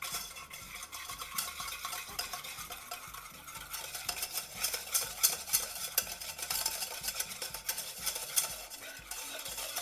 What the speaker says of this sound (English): I'm going to whisk all of that together again.